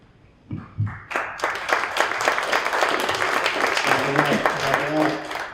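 Audience applause at an NYC pitch night event, a crowd clapping steadily for several seconds, with voices talking faintly under the clapping near the end.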